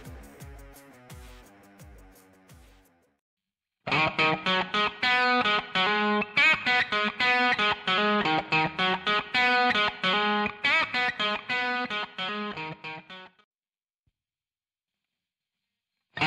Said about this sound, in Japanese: この GT5 のアナログの歪みを鳴らしてみたいと思います